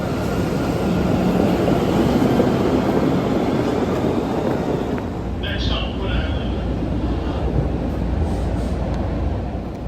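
Small-car Boston Blue Line subway train running toward Wonderland, a steady loud rumble and roar throughout, with a brief higher squeal partway through.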